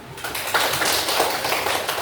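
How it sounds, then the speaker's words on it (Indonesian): Classroom applause from a group of students: a short burst of brisk, fairly close clapping that starts abruptly and stays steady for a couple of seconds. "Berikan tepuk tangan dulu."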